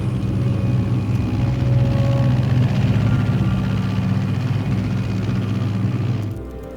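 An aircraft engine drones in flight in the Metal Gear Solid 3 video game, a loud, steady low rumble with a constant hum that fades slightly at the end.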